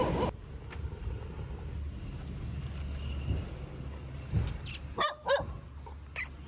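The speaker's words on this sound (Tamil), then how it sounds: "சுற்றி ஒரு 3 நாய் பாருங்க எப்படி சண்டைக்கு வந்துட்டுருக்குன்றதுக்கிட்ட." Three dogs bark and snarl in a scuffle at a lorry loading yard near Madurai, their sharp barks and yelps coming in a quick burst over steady outdoor background noise.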